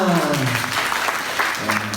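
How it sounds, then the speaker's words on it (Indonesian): A congregation at a church service claps after a testimony, steady applause lasting two seconds, mixed with a voice and some tonal sound, likely music, underneath. "Tepuk tangan."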